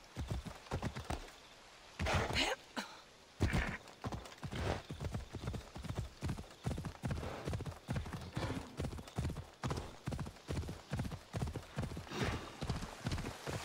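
Horse hooves clip-clop steadily in the Assassin's Creed Odyssey video game, a brisk rhythmic gait with a short pause early on, fairly close and clear, with a faint whinny.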